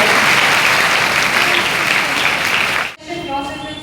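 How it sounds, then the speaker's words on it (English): A large audience at a Nirmala Convent School event gives a round of applause for invited guests: loud, dense clapping that holds steady for about three seconds, then cuts off sharply into a quieter room. "Please give them a big round of applause to our guests."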